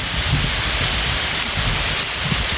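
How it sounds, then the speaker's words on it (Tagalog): Heavy rain pours down in a dense, constant hiss, close and loud, with low patters of drops on a surface and no speech over it. "Malakas ang ulan mga idol, oh."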